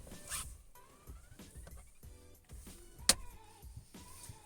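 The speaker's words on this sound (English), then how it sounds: "I'm going to use this trim tool now, try and get into the plastic trims behind the wheel." Plastic trim around the steering wheel of a Honda Civic EK coupe being prised off with a trim tool, giving scattered clicks, scrapes and one sharp snap near the end, close and fairly quiet with no talking.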